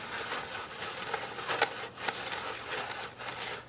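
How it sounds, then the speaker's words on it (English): Sphagnum moss being grated by hand against a coarse sieve screen during a ficus benjamina repot, a soft, close, continuous scratchy rasp with a few slightly louder strokes. "I'm actually like grating this sphagnum against the sieve."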